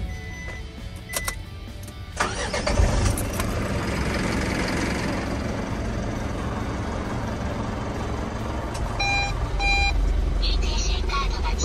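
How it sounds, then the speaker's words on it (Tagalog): An Isuzu 4JJ1 diesel engine in a Mazda-Isuzu truck cranks and fires after a couple of seconds, then settles into a steady, loud idle with a few electronic beeps partway through. "Pakinggan po natin ang makina nitong 4JJ1."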